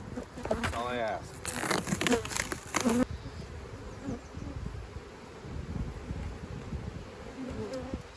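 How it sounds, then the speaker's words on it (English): Dense buzzing of honeybees from an opened beehive box packed with bees, a steady close-up drone that is louder over the first three seconds and then settles into a softer continuous hum. "Box absolutely full of bees."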